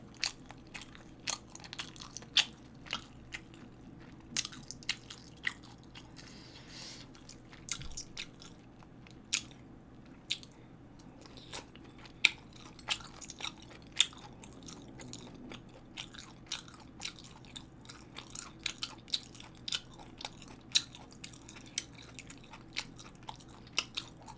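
Close, crisp chewing and crunching of food, with irregular bites and crunches spread over steady mouth sounds in a quiet room, without speech.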